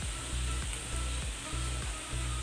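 Potatoes fry in a pan with a steady close sizzle, broken by regular rhythmic scraping strokes as they are spread and stirred.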